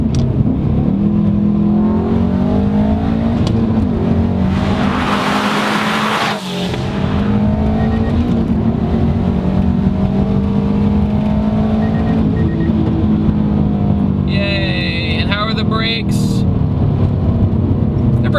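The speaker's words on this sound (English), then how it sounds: "it just sounds a lot louder because it's running so much more boost than normal" A loud turbocharged 2006 Subaru STI engine revs and roars under steady load at high boost, with a brief whooshing hiss midway and a blow-off valve's chirping release later, heard from inside the car while a voice talks.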